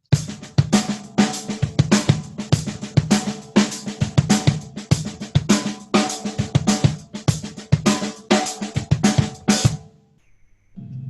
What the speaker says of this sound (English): switching the voices from hi-hat and snare. I'll give you an example first with hands crossed.